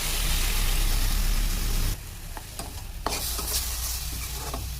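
Water being stirred and mixed into vada batter until thick makes a loud, wet, swishing churn close by, then softer squelching strokes with light clicks against the bowl, with no talk.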